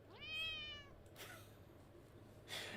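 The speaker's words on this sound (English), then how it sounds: "I love the cat sound." A game interface alert plays a single synthetic cat meow from a World of Warcraft WeakAura, a short rising-falling cry near the start, followed by a few faint clicks and a soft noise burst at the end.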